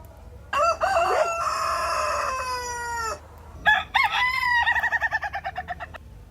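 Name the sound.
toy rooster crowing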